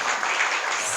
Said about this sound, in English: So let's give her an applause.